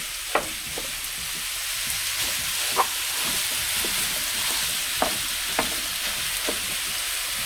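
Steady sizzling of seasoned ground meat frying in a hot pan, with occasional sharper clicks and taps from stirring or breaking it up.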